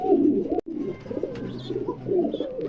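A pair of silver Siraji pigeons coo in low, throaty rolling phrases close by, with a brief dropout partway through and a few faint higher chirps in the background.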